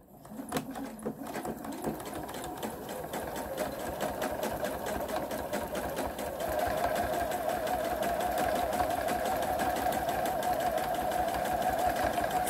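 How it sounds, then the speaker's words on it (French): Sewing machine stitching a Peter Pan (Claudine) collar onto a collar stand, a steady close-up whirring hum with rapid needle ticks that runs continuously and grows slightly louder partway through. "je me remets sur la machine et on va piquer"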